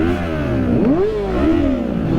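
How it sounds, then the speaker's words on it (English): A Kawasaki Ninja with an inline-four engine revs hard, its pitch sweeping up, dipping and climbing again in a loud, close, continuous howl with no talking. "But I mean, who doesn't like the sound of inline 4?"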